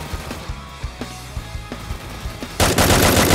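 An AN94 assault rifle fires in the mobile battle game Free Fire. A sustained, loud burst of automatic gunfire follows a few scattered lighter shots and background game noise.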